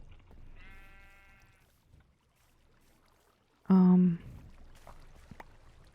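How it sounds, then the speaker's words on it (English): A sheep bleats in the video game Minecraft: one wavering bleat early on, then a short, loud, sharper bleat nearer the end, with quiet clicks and rustles between. "Let me get a sheep in here at least."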